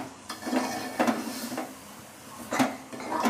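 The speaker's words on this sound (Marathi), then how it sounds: "कोरडं होईपर्यंत हलवून घ्यायचं याला" A spoon scrapes and stirs pumpkin sheera (halwa) with sugar in a pan, several uneven strokes with soft clinks against the metal, close and moderately loud, with no talking.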